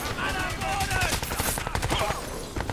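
Rapid bursts of gunfire from Crysis 2 multiplayer crackle continuously at moderate level, layered with game effects while a player talks over it.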